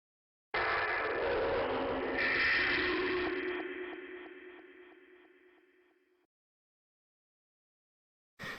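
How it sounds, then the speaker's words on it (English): A spooky indoor jump scare effect from a video game map mod: a sudden dense, harsh burst that holds for a few seconds, then slowly fades over several more seconds into silence, with no voices. "this is kind of like a spooky jump scare indoor sound"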